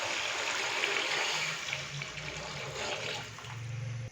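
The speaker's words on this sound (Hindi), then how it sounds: "तो अभी मैं इसके अंदर जो पानी डालूंगा वो है 5 गिलास" Water pours into a pot of egg and pea pulao, a soft continuous splashing and trickling with a low bubbling note, quiet and close, with no talking.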